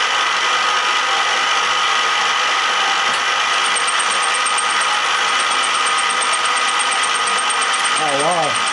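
A milling machine set up to make a fly cutter runs steadily with a dense, even mechanical whir and a faint high whine, close and continuous, with a voice briefly heard near the end.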